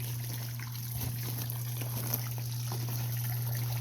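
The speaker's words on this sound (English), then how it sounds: "that splashy sound has already attracted at least 4 frogs to here" Water trickles and splashes steadily into a clear, deep natural garden pond with a bog filter, a continuous close pouring sound over a low steady hum, with no voices.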